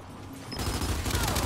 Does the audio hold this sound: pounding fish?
no